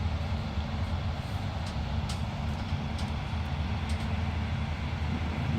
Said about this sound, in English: It's so peaceful riding the train, though.